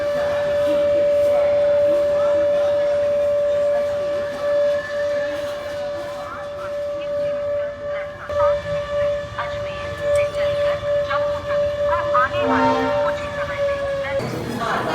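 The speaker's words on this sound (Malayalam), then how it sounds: "അപ്പോൾ നമ്മൾ ജമ്മു തവി റെയിൽവേ സ്റ്റേഷനിൽ എത്തി സുഹൃത്തുക്കളെ." Busy platform ambience at Jammu Tawi railway station, with a steady, sustained tone ringing over a continuous crowd murmur and people talking nearby throughout.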